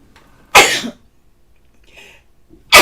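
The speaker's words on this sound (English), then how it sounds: "if you hear me sneezing, like now" A person sneezes twice, two sharp loud bursts separated by a quiet pause with a faint breathy sound between them.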